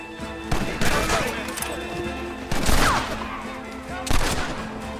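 Several loud gunshot volleys crack out in bursts in a Red Dead Redemption firefight, each burst cutting through a busy backdrop of in-game battle noise and voices.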